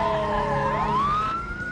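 A police car siren in a radio ad wails loud and close, its pitch sweeping down and then rising again in a continuous electronic tone.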